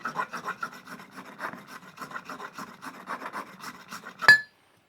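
A metal file scrapes along the top of a guitar fret with rapid back-and-forth rasping strokes, close and moderately loud, and the run ends in one sharp metallic clink.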